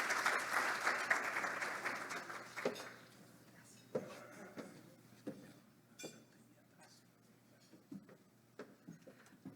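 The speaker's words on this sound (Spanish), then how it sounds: "démosle un fuerte aplauso y una bienvenida a Verónica" An audience at a science and innovation talk applauds to welcome the speaker Verónica, clapping loudly for about two seconds and then fading into sparse, isolated claps and small knocks.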